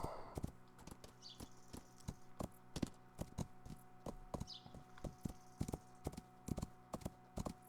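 A horse in the game Rising World clip-clops along in a quick, steady rhythm of crisp hoof taps, fairly faint, with a brief soft whoosh at the start and no talking.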